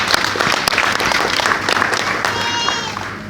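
An audience at a business presentation claps in a dense, sustained burst of applause that stays loud for a few seconds before tapering slightly.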